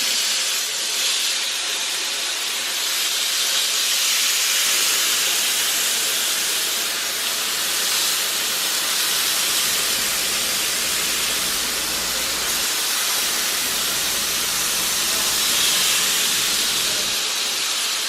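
Chicken and shrimp sizzle on a hot grill, a loud, steady hiss that holds evenly from start to finish with no voices.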